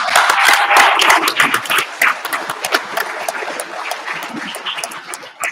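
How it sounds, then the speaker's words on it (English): An audience gives a round of applause at a local roundup evening, loud close clapping from a smallish crowd, strong at first and then thinning into scattered individual claps toward the end. "So, please, round of applause"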